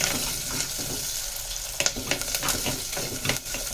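Slit green chillies and curry leaves fry in hot oil for a Tirunelveli-style kara kuzhambu, giving a steady close sizzle broken by sharp spatula scrapes and stirring clatter toward the end.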